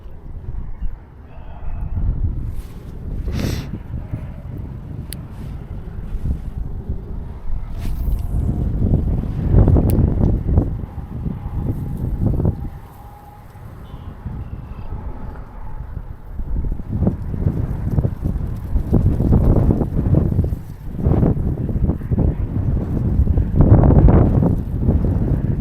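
Strong wind while fishing, heavy gusting rumble buffeting the microphone in surging waves, loud and steady with brief lulls, no clear talking.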